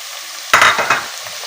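Chopped onions dropped into hot oil for keema, a sudden loud sizzle bursting in after a quiet moment, crackling strongly for about half a second and then settling into a softer frying hiss.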